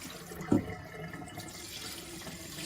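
Water drains from cut potato wedges through a plastic strainer in a kitchen sink, a soft steady trickle with a couple of louder splashy bumps near the start and end.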